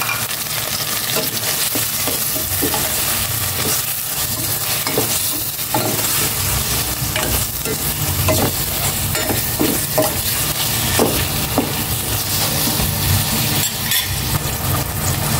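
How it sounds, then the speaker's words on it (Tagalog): Pork sizzles loudly in a hot pan, a steady frying hiss with intermittent scraping of a spatula stirring the meat, continuous throughout. "Ilagay ko na itong pork para malisa na."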